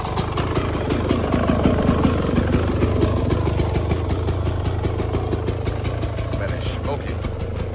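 GasGas 300 dirt bike engine running down a highway, a loud, close, continuous rumble with steady rapid firing pulses throughout.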